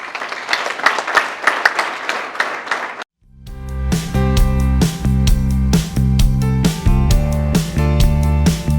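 Applause from an audience at a community security training session in Kinyinya, Gasabo: dense, steady clapping for about three seconds, then a brief silence before music takes over.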